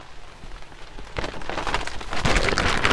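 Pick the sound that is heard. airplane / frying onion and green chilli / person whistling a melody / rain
rain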